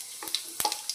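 Cumin seeds crackle and sizzle in hot oil for a potato curry, a short burst of close frying with a few sharp pops.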